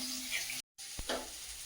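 A bay leaf crackles in hot oil in a kadai alongside dried red chillies, giving a steady close sizzle that cuts out briefly, followed by a single soft thud and more frying hiss.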